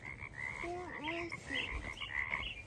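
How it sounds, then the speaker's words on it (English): Frog croaking from the water at close range, a few rising and falling calls across a steady outdoor background with no talking. "It's a frog."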